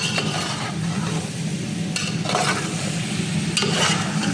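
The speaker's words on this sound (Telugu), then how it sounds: "ఇప్పుడు టమాటాలు అయితే వేసుకుంటున్నా ముందే వేస్తే టమాటాలు నీరు ఉండటం వల్ల ఇవి వేగవు అందుకని ఇప్పుడు వేస్తున్నా" Tomatoes frying in a pan while being cooked for sambar, a steady sizzle with stirring scrapes and occasional clinks of a utensil against the pan, close and continuous with no talk.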